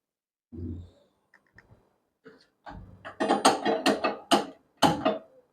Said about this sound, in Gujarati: અહીંયા તો આપણે ગેસ ચાલુ કરીએ